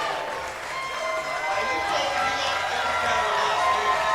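A crowd cheers and claps throughout at bouldering finals, a sustained roar of voices and applause with a commentator's voice mixed in.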